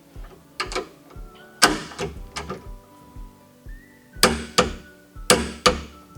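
A torque wrench tightens a rifle action with a run of sharp metallic clicks, some close and loud, some softer, spaced irregularly against a faint background hum.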